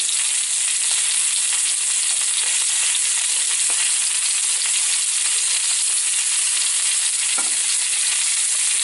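A ribeye steak sears in a cast iron skillet, giving a steady, loud, continuous sizzle that runs the whole time with a few faint pops and stirs, no voices.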